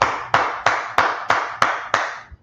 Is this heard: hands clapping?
yes